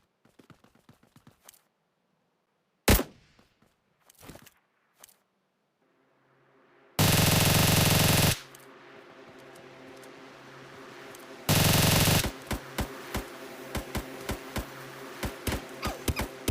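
PUBG Lite gameplay with scattered sharp shots and two long loud bursts of gunfire, followed by rapid repeated shots over a steady background noise.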